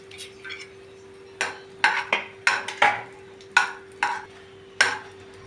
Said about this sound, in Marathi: थोडंसं तेल त्याच्यात हे जे आहेत की खोबरा भाजून घ्यायचं आहे थोडंसं